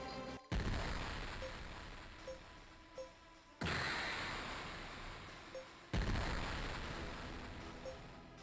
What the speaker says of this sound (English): Yep, enemy barrage is on the way.